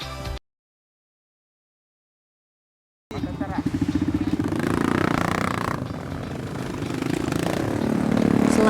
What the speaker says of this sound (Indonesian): kami melanjutkan perjalanan dengan menggunakan motor trail dan juga ojek